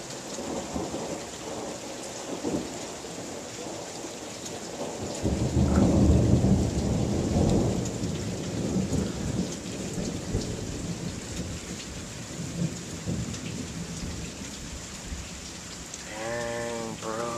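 An unexpected thunderstorm with steady rain and deep rolling thunder, one long rumble swelling near the middle and slowly fading, with rain falling on surfaces throughout.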